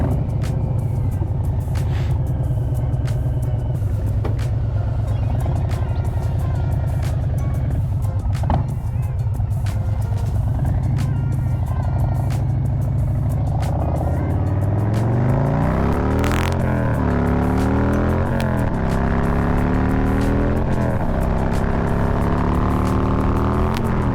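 A motorcycle on the ride home after winter, its engine droning loud and close with constant wind rumble, and rising and falling revs through gear changes in the second half.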